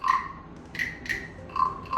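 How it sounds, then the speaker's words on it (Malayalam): A frog brought from Malaysia croaks in four short, bright bursts spread across two seconds, each call clear and fairly close, with quiet pauses between and no voices. "അരുണേട്ടൻ മലേഷ്യയിൽ നിന്ന് കൊണ്ടുവന്നിട്ടുണ്ടായിരുന്ന ഈ തവള"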